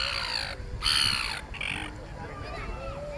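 A crow caws harshly several times close by, loud repeated bursts with a rough, agitated edge over a steady outdoor background hiss.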